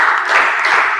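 Students in a classroom clap together in a short burst, a dense, fairly loud round of hand-claps with no voices over it.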